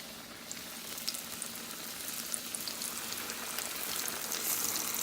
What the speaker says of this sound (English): Ooh, hear that sizzle